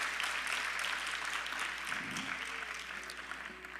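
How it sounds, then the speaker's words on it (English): Audience applause for the orchestra at an Indian classical dance arangetram, a steady, broad wash of clapping filling the hall throughout, fairly even in level and tapering slightly toward the end. "Let's give a thunderous round of applause to our orchestra."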